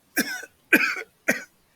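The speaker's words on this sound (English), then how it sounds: "and then began to cough" Three harsh coughs in a row, each a short raspy burst with brief pauses between, close and fairly loud.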